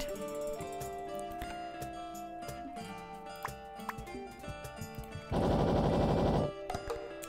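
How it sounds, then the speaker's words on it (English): Bombs going off in the indie puzzle game Biblok, with a dense burst of crackling explosions breaking out over busy game music and effects near the end. "That was a lot of bombs."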